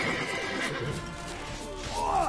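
In The Witcher 3, the horse Roach gives a loud neigh while hooves clip-clop in a gallop, with battle noise and a voice talking over it.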